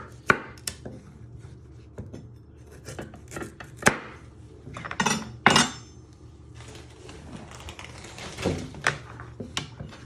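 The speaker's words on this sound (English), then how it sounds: "You want to first chop your ends off." A knife chops the ends off parsnips on a cutting board while prepping curried parsnip soup, giving a series of sharp, irregular close-up chops with short pauses between them and no talking.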